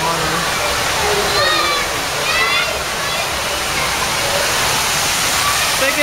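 Water rushes steadily through a Great Lakes lock exhibit model as the level is lowered, a loud continuous gushing wash that fills the whole stretch, with people talking faintly over it.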